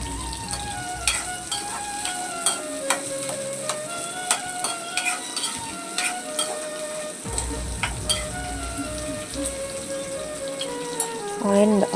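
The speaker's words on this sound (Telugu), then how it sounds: "2 మీడియం సైజ్ ఆనియన్ బాగా వేయించుకోండి." Two medium onions fry in a pan, with steady close sizzling and crackling, occasional stirring taps, and a person talking over it.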